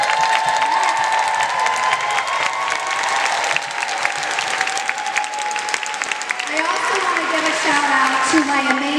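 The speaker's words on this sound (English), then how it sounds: "give them a huge round of applause" A large career conference audience applauds loudly and steadily for about nine seconds, with a dense wash of clapping and some cheering.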